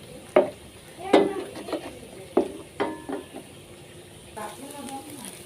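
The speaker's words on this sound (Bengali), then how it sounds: "ভালো করে নেড়ে নেব।" Fried rice ingredients, egg and vegetables, stirred in a hot pan: a light sizzle under a handful of sharp spatula clanks against the metal, spaced irregularly and close by.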